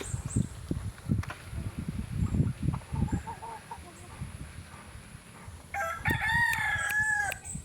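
A small bantam rooster crows near the end, preceded by soft clucking and scattered low rustling and thumps.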